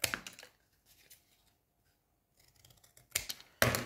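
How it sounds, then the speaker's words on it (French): Scissors cut out a paper template for an Easter decoration, with close crisp snips: a burst at the start, a few faint clicks during a quiet stretch, then two sharp cuts at the end, and no talking. "J'ai tracé là et je vais le couper."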